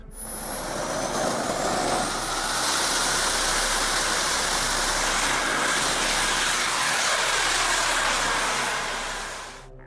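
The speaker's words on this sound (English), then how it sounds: "The AB-5 is powered by 4 microturbines and can fly over 300 miles per hour" Loud, steady turbine roar and high whine of the AB-5 jet-powered drone driven by four microturbines, swelling in over the first second then holding constant before easing slightly at the end, with no talk.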